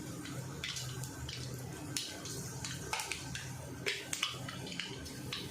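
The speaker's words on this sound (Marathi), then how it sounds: "राई जरा तडतडून द्यायची" Mustard seeds sputtering in hot oil for a bitter gourd chutney, a steady crackle broken by sharp, irregular pops, close by, with no talking.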